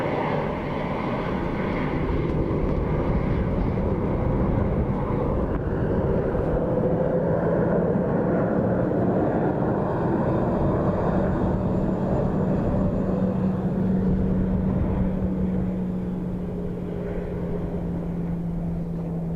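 A Ryanair jet coming in to land at Dublin Airport during Storm Amy, its engines a steady loud roar over strong gusting wind, with a slowly falling engine tone building through the middle and trailing away.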